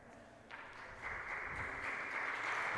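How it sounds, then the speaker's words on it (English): Spectators at a pickleball doubles match applaud the play from a distance, a faint clapping that swells after the first second and holds steady. "the crowd getting involved here, applauding the high level of play"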